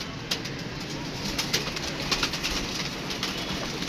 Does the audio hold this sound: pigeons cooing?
yes